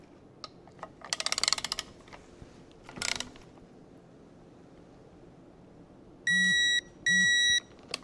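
A torque wrench tightens a manifold holding bolt on a DT466E diesel engine during a rebuild: a short burst of quick ratcheting clicks, a second brief burst, then two steady electronic beeps signalling the set torque, all close with no talking.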